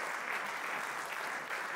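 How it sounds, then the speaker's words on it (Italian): A packed theatre audience at Teatro Concordia in San Benedetto claps continuously during a live comedy show, an even wash of many hands, full and steady with only a slight dip near the end. "No, fatevi un altro applauso."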